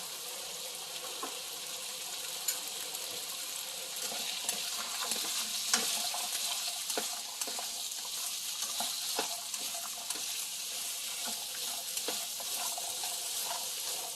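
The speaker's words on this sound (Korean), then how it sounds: "당근이랑 감자를 먼저 볶을게요. 볶을 때는 소금을 조금 넣어줄게요." Carrots and potatoes are stir-fried with a little salt in a pan for curry rice, giving a steady close sizzle with scraping stirs and occasional clicks of the spatula against the pan.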